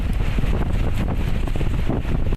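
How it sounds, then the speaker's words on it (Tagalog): Strong typhoon waves pound the shore at Aparri, Cagayan, heard as a continuous loud roar of surf mixed with heavy wind buffeting the microphone, unbroken until an abrupt cut. "Malakas na ang hampas ng alon sa ilang baybayin sa Aparig"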